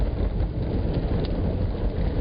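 Rain on a taxi at night, a steady low rumbling wash of rainfall and road noise heard from inside the car, constant and moderately loud with no talking.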